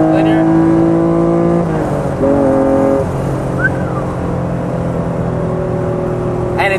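A 1991 Acura NSX engine pulls hard in third gear, its pitch holding steady then stepping up through the revs as VTEC engages, loud and close throughout.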